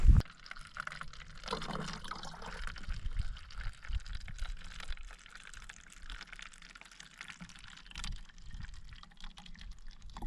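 Water pours into a bottle on a desert backpacking hike, a steady gurgling fill that rises and falls over about ten seconds, close and fairly clear with almost no talk.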